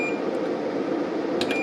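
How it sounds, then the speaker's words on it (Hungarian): A Datou Boss DT4862S 6200W inverter's built-in beeper gives a couple of short, high electronic chirps near the end, over a steady low electrical hum, with no one speaking. "Ez lenne a csipogónk."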